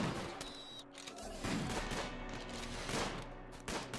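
Rapid bursts of turret gunfire from a RimWorld battle crackle in dense volleys across the whole stretch, steady and fairly loud, with no voices.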